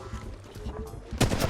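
A short, loud burst of gunfire from a weapon in Apex Legends Mobile, cracking in right at the end of a brief stretch of game noise.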